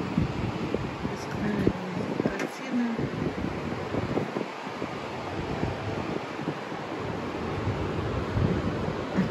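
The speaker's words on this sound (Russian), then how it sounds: "океан ревет. Какие волны набегают." Continuous roar of Atlantic surf on a white-sand beach at Varadero, Cuba, with heavy wind buffeting the microphone, waves rumbling steadily without a break.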